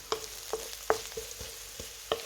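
Onions and garlic sautéing for potato patties, a quiet sizzle punctuated by several distinct clacks of a spoon tapping the pan, roughly every half second, close and without voices.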